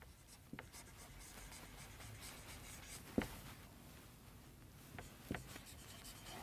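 A pen scratches faintly and steadily on paper while a printing-expense entry is written for an accountancy lesson, with a few soft taps and no talk.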